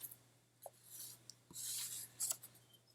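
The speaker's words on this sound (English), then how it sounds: "Peel off the backing" Backing peeled off a craft sticker: a few faint, crisp tearing and crinkling bursts, the longest a drawn-out rip near the middle, set against near silence and a low steady hum.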